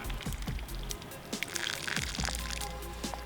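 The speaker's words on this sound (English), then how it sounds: "So we got water coming off of this roof." Rainwater drips and splashes irregularly off a roof, with scattered plinks and small crackling impacts over a steady low background rumble.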